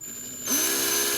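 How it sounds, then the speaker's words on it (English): A small power drill spins up abruptly and holds a steady whine as it bores into a tiny screw on a Star Trek Enterprise D model kit, loud and close with no talk. "all I'm going to do is just try and drill out the screw"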